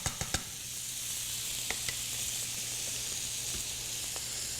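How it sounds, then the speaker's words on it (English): Cream poured into a boiling hot pan gives a steady, close sizzle and hiss, with a few sharp clicks at the start and no talk. "the interesting part comes now when I start to add my cream"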